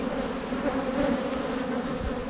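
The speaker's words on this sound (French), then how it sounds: "une toute jeune abeille qui vient d'émerger" Honey bees hum in a steady, dense buzz around a young bee just emerging from the comb, close and continuous throughout.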